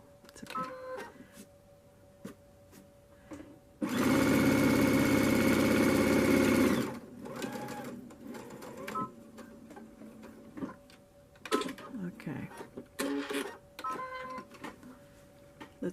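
A sewing machine stitches a lace picture onto chenille in a steady, loud mechanical whir lasting about three seconds, framed by scattered clicks and handling noises.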